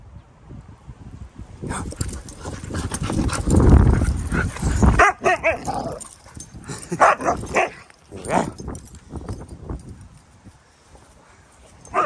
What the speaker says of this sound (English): This dog is full of energy in the mornings.